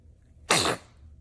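A baby sneezes once, a short, sharp burst that stands out clearly against a quiet background.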